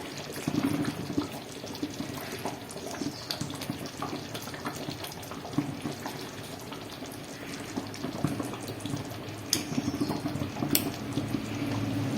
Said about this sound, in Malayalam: നല്ല തിള വന്നിട്ടുണ്ട്